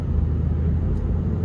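A 2017 Chevy Cruze Hatchback RS with the 1.4 turbo four-cylinder drives on the road, its cabin filled with a steady low engine and road rumble, with no one talking.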